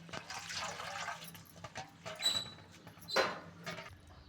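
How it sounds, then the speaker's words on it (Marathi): Leafy greens are swished and washed in a vessel of water, producing soft irregular splashing and sloshing bursts close by, with quiet gaps between them and a faint background hum. "ही भाजी आहे, तिला असं खळखळ धुवून घ्यायचं."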